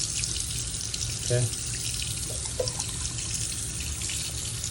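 Warm tap water runs steadily from a faucet over an electric shaver being rinsed, a constant hiss with a brief splash as the shaver goes under the stream; a voice speaks briefly.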